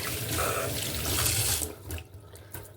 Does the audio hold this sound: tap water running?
yes